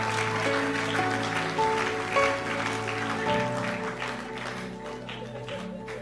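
Applause from a church congregation for a couple called forward, a steady crowd clapping over sustained music tones that runs for several seconds and tapers slightly toward the end.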